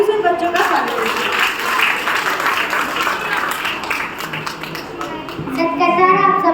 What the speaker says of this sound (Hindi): जोरदार तालियों से उन बच्चों का स्वागत कीजिए